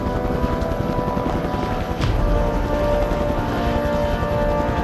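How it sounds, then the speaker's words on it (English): Military helicopters approach in an action movie scene, a steady, loud, close rotor thump and engine drone that fills the whole stretch without pause. "there are military helicopters approaching Warhead"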